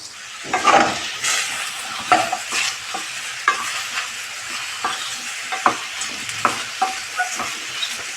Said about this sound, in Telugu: వేసుకొని లో ఫ్లేమ్లో పెట్టుకుని వీటిని చక్కగా ఫ్రై చేసుకోవాలి.